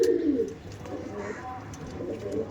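Delhi pigeons coo close by in soft, low throaty bursts, one strong coo at the start followed by quieter murmuring calls, with a voice faintly present.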